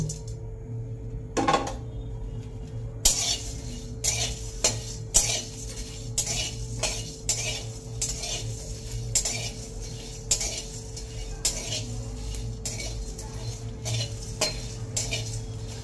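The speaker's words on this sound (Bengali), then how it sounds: "এবারে গোটা মশলাগুলোকে ভেজে নেব।" Whole spices are fried in a hot wok (kadai) while a metal spatula scrapes and clinks against it in a quick, irregular stirring rhythm over a faint sizzle, close and without talk.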